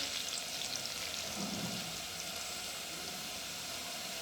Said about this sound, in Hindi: इसको हम मुसलसल हिलाते रहेंगे ताकि सूजी एक साथ सारी अच्छे से भुन जाए